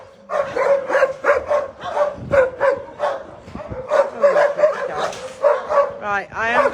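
Dogs at an animal shelter bark in a rapid, continuous chorus of yips and bow-wows, loud and close, with a whimper near the end.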